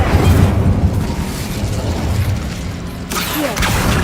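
A fiery whoosh and rumble from the Incendio fire spell cast in Hogwarts Legacy, loud and sustained, with a fresh burst near the end.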